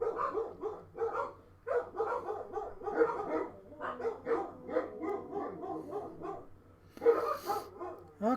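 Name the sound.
dogs barking in a zombie video game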